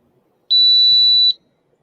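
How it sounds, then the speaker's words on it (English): A drone radio controller for an EMAX Tinyhawk2 gives one loud, steady, high-pitched beep lasting just under a second, heard alone against near silence. "Is that the beep I hear?"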